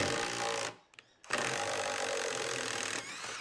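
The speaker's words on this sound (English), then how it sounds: "So I wanted to give a 100mm coach bolt with the impact with a socket." A Kincrome battery impact driver with a socket drives a 100mm coach bolt into timber, a loud rapid hammering whir that stops for a brief pause, then resumes and runs on steadily.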